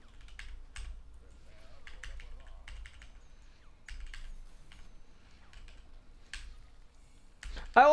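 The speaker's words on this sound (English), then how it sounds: "for keyboard sounds, it's kind of the same thing, where I could absolutely lower them if I thought it was a problem" Quiet, steady typing on a computer keyboard fitted with silent switches, soft scattered keystroke clicks in uneven bursts, with a louder clack near the end.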